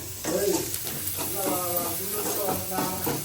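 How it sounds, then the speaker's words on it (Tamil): Green chillies sizzle as they are sautéed in a pan, a steady frying hiss with stirring scrapes, while a voice talks over it in the background. "பச்சை மிளகாய் வணங்கவே இல்லைடா. வதங்கிடுச்சு."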